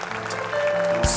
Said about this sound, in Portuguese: Aplauda o Cristo ressurreto.